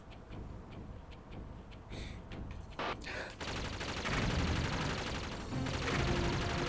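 Consecutive shotgun blasts in the Panzer Dragoon Orta video game, a rapid run of sharp repeated shots over busy game sounds, growing denser and louder toward the end.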